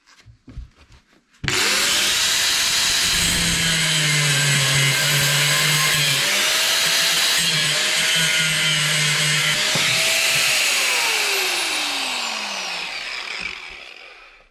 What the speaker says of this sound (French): Tu prends ta meilleure meuleuse et puis tu t'éclates.